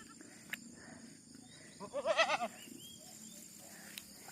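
Goats bleat in a short cluster of overlapping calls as the herd is driven to grass pasture, heard near and clear against a quiet outdoor background.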